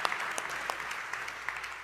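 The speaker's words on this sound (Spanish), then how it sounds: "Podemos darle un aplauso al Señor" A church congregation applauds the Lord during a worship service, a continuous wash of many hands clapping at moderate volume with a few sharper claps standing out, with no pause.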